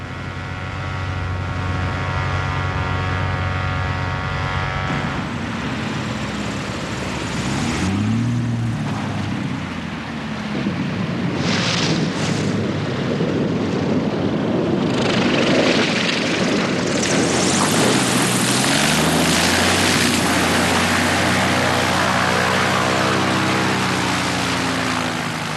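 A propeller bush plane flying in Alaska, its engine droning loud and steady throughout, with rising and falling pitch as it passes and manoeuvres.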